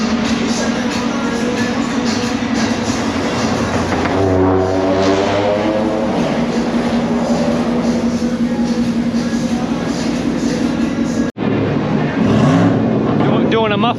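A truck engine revs steadily and loud through a muffler test, a continuous droning roar with a brief cut near the end, while a person talks over it.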